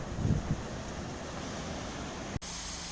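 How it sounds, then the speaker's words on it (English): Steady outdoor wind rushing across the microphone, a continuous broadband roar with a low buffeting thump near the start and a brief dropout near the end. "it's windy out here and I don't want to put out this windy, loud video"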